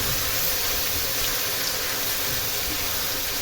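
Tomato frying in a pan on the stove with salt, a steady loud hiss and sizzle holding even throughout without pauses.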